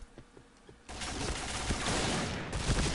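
Rapid automatic gunfire from the online shooter Point Blank bursts in after a quiet moment with faint steps, a dense sustained volley that stays loud and close to the end.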